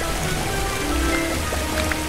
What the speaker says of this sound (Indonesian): Ini suara air terjun.